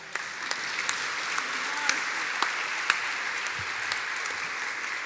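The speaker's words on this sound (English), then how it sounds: "You can clap." A crowd applauds at a literary awards celebration, steady dense clapping sustained throughout with a few sharper individual claps standing out.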